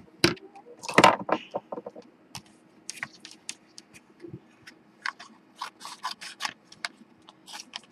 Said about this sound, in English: use my crafty scissors to cut this out.